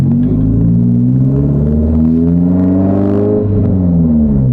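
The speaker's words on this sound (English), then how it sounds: "Yeah, the exhaust gotta go." A JDM car's loud, raspy aftermarket exhaust revs hard nearby, a deep steady drone that climbs and falls in pitch as the engine is worked.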